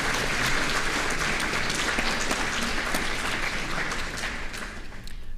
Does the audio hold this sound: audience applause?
yes